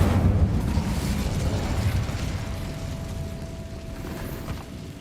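A fire spell cast in the video game Hogwarts Legacy, heard as a loud, dense burst of roaring, crackling noise at the start that settles into a sustained whooshing rumble, with a faint steady tone running beneath.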